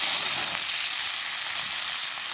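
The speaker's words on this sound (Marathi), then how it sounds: "लसूण कांदा टाक कांदा टोमॅटो सगळं टाक" Garlic, onion and tomato sizzling in a hot pan over a wood-fired stove, a dense, loud, continuous hiss heard up close without any talking.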